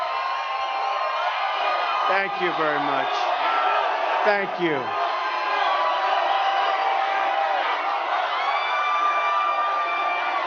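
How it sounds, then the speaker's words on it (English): A packed crowd at a rally in Manassas, Virginia keeps up a loud, steady roar and cheer throughout, with someone speaking over the noise. "A big crowd."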